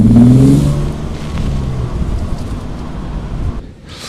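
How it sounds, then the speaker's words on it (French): A Morgan Roadster with a 3.7-litre V6 revs close by, a strong throaty burst at first that settles into a steady engine rumble mixed with wind noise. "mettre un moteur bodybuildé dans une petite voiture anglaise"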